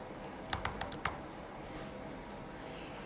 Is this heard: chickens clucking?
no